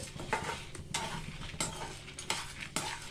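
Lentils and a piece of asafoetida frying in a pan for a drumstick-leaf spice powder, heard as a low sizzle under repeated scraping stir strokes and spoon knocks, close by and without speech.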